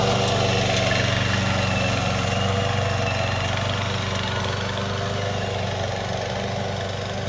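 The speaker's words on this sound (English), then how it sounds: "The 22T features a very high torque motor gearbox combo, and makes it so these types of hills are really no problem at all." The high-torque motor and gearbox of a 22T robot lawn mower climbing a hill, a loud steady droning hum with a constant vibration and no pauses, heard alone without talk.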